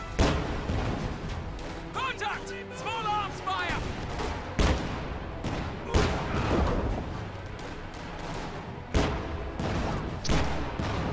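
Puma armored cars in a WWII strategy video game fire repeated shots at riflemen, with sharp cracks and blasts scattered irregularly through a busy battle soundscape, and a voice talking over the action.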